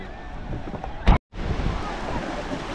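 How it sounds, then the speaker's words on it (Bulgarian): Sea waves wash onto the central beach at Sveti Vlas, a steady rushing surf with wind noise, broken by a brief dropout partway through. "в момента се намираме на централния плаж в Свети Влас и дойдохме да влезем в морето"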